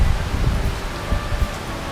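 Heavy rain pours in Manila on a stormy day, a steady dense hiss of falling water with low rumbling undertones, close and continuous throughout.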